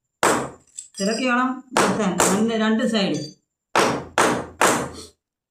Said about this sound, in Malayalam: രണ്ട് സൈഡും അടിച്ച് ചിളക്കി പരത്തണം.